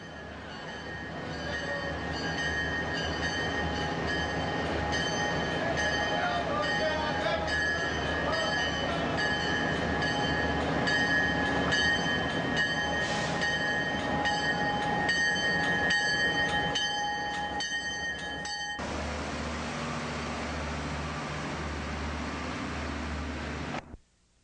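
Tarahumara second-class passenger train pulling into a station, a long steady rumble of rolling cars with faint wheel squeal and a brief horn-like tone, cut off abruptly near the end.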